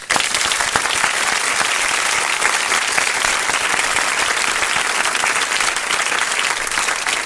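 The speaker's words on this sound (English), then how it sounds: "let me give him an official People Before Politics round of applause" A dense, steady round of applause from an audience greeting an Ossining trustee on a talk radio show, loud and continuous with no break throughout.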